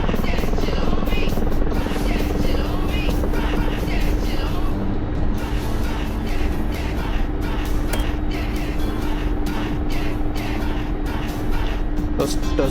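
An aircraft in a flight video game sets down vertically in a VTOL landing, producing a steady, loud, rotor-like engine drone throughout, with someone talking over it.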